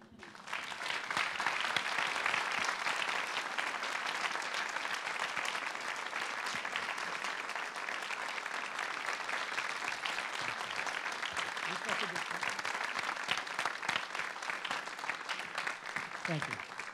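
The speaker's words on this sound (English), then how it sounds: "I hope you're applauding for yourself." Dense, sustained audience applause fills a Toronto lecture hall after a talk on the Third Industrial Revolution, holding steady and loud for the full stretch with no break.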